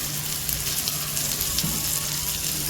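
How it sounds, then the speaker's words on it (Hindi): Steady, dense sizzling of spices with garlic and ginger frying in a hot pan, a continuous crackling hiss with no talking. "मसाले को ज़रा हम 1 मिनट तक भून लेते हैं"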